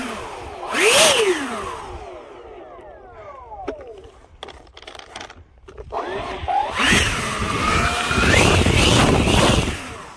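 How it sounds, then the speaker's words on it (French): An E-flite HABU SS RC jet with three 70mm electric ducted-fan turbines on 6S power spools up in short bursts for a throttle test, with loud rising and falling whines, a quieter middle pause, then a sustained high run. "On fait un test de gaz."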